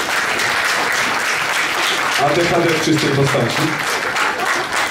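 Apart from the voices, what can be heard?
audience applause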